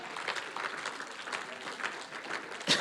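A church congregation applauds and acclaims the Lord, a steady wash of clapping hands with crowd noise running the whole time at moderate level, swelling briefly at the very end.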